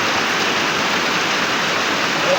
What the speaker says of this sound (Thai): ตอนนี้กำลังฝนตก